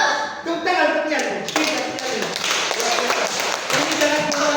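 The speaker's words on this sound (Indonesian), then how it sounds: "Tepuk tangan untuk dia." A burst of classroom clapping, many hands applauding together at close range for several seconds, with voices mixed in underneath, during a micro-teaching practice session.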